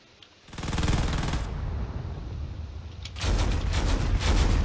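Autocannons in the Drone Wars game fire in loud, rapid bursts: one sustained volley, a short gap, then a second dense burst of fast repeating shots, close and unbroken by speech.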